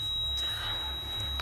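A high, steady electronic beeping tone repeats through a quiet, dark room during a paranormal investigation, with dogs and whispering nearby; the tone sits alone over a faint low hum.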